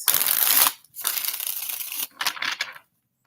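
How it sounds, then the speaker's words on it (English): A deck of tarot cards is riffled and shuffled close up in three crisp bursts of rapid papery flutter, loud with short pauses between, ending in silence. "don't you start shuffling like that"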